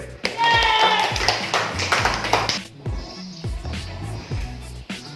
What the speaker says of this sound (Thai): ปรบมือตัวเองหน่อยเร็ว